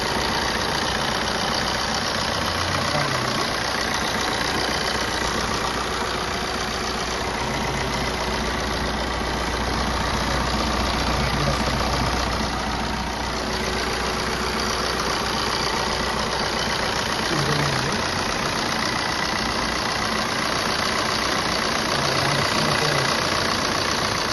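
A Maruti Suzuki Swift VDI diesel engine idles with a steady low rumble throughout, with no voices, holding an even level from start to finish.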